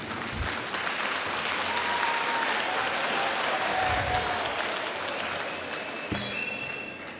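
An audience claps in sustained, even applause at a church gathering, steady throughout with a few louder bumps near the mic.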